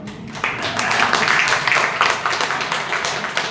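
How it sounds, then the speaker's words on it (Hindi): A gathered audience claps at a religious discourse hall. The applause is broad and continuous, swelling after a brief quiet start and then fading slightly, moderately loud with a dense crackling texture. "बहुत दिलेरी से ताली बजाई शायद आपने, है ना?"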